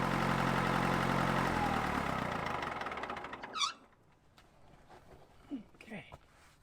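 Cat D3 LGP dozer engine idling while warming up, a steady low rumble for the first few seconds that fades out, followed by quieter scattered knocks and clatter.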